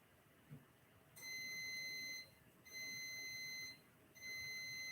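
Three long, high-pitched electronic beeps, evenly spaced with short gaps, from a bread machine in a quiet room.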